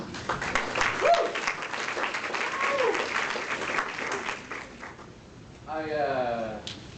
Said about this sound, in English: I always question why you would clap beforehand